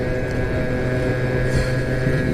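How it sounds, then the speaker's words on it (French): BMW vehicle rushing up from behind a rider on a 50cc motorbike, a continuous loud engine roar and road rumble that stays heavy throughout. "il y a une BM, elle arrive derrière moi à donf"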